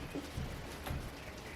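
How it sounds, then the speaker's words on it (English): Rain patters steadily outside, a soft continuous hiss with a couple of faint low thumps. "I enjoy a good rain when I'm making soap."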